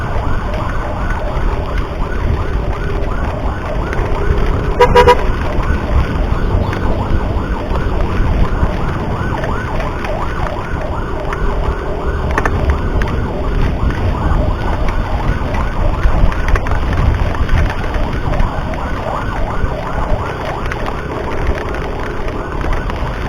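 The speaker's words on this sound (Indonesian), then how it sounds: "jadi di belakang ada satu unit ambulan" Ambulance siren wailing continuously from close behind while escorting the vehicle on a rainy road in Malang, heard over steady road and rain noise with the rider's motorbike running throughout.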